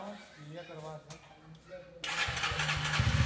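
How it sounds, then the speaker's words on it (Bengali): A motorcycle engine starting after repair at a service centre, with a quieter rumble at first before it catches and settles into a loud, close, steady idle. "বাইকের এই স্টার্ট দেওয়ার আওয়াজটা শুনে মনটা খুশি হয়ে ওঠে"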